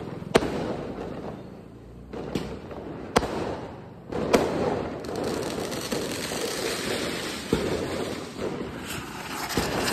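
Diwali fireworks from anar fountains and chakri spinners make a steady hissing, crackling rush outdoors, broken by several sharp firecracker bangs, some nearby and some farther off.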